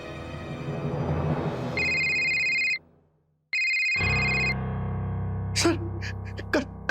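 A mobile phone rings with a loud electronic ringtone in two bursts separated by a brief silence, followed by low background music and faint knocks.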